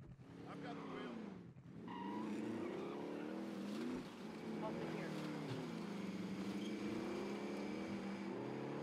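Car engine in Call of Duty Warzone (Modern Warfare), a steady droning motor with rising and falling revs as the vehicle is driven, continuous and moderately loud throughout, with a brief dip early on.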